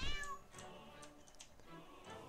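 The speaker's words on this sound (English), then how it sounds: "Yes, that is a cat." A cat in the video game South Park: The Stick of Truth lets out a short rising meow at the start, followed by quieter, faint game ambience.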